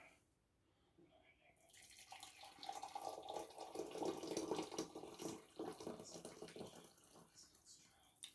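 Boiling water pours from a kettle into a jug for gravy in a home kitchen, a steady splashing stream that builds for several seconds, then eases off toward the end.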